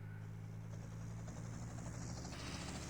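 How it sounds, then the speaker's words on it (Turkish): Steady helicopter rotor drone from a chopper in GTA Vice City, a continuous loud whirring hum that stays level and unbroken, heard alone with no voices. "Helikopter olduğuna göre güzel maceralı bir göreve çıkıyoruz arkadaşlar."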